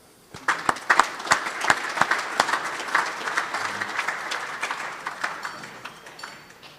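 An audience at a Rotary gathering applauds to welcome Lieutenant Colonel Malcolm Wells, steady clapping from many hands swelling quickly, holding for several seconds, then thinning out and fading.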